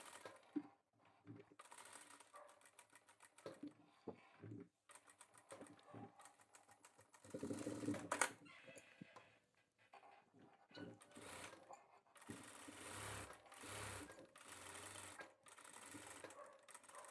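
Sewing machine stitching buckram on a men's kurta, edging from the centre, in repeated short bursts of rapid needle clatter with brief pauses between, close and moderately loud.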